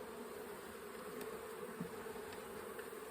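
A faint, steady drone of bees from an unexpected swarm, agitated while being moved late in the day from one box to another, a continuous low hum with no voices.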